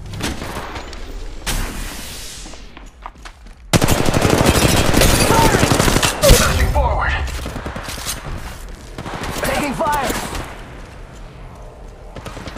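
Automatic gunfire in Apex Legends Mobile, loud sustained bursts of rapid shots close by with shorter volleys before and after, mixed with game effects and a voice calling out under the shooting.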